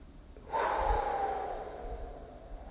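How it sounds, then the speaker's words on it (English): A single long inhale drawn in through the nose during box breathing, starting abruptly and close, steady and airy before slowly fading. "So you breathe in through your nose."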